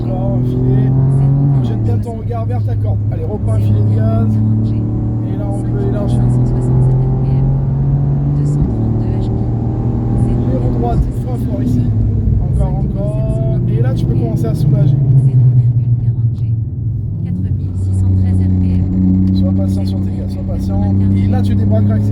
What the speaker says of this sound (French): Et on débraque, on va accélérer.